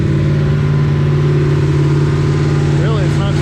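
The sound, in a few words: new engine revving at high RPM during break-in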